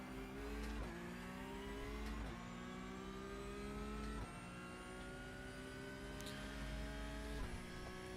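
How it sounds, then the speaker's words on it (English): Porsche race cars in a racing video game roar with steady high-revving engine tones, the pitch dropping sharply several times under heavy braking before climbing again on acceleration, continuous and loud. "Big, heavy braking out of both Porsches and coming back around."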